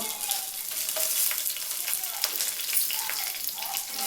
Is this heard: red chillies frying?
yes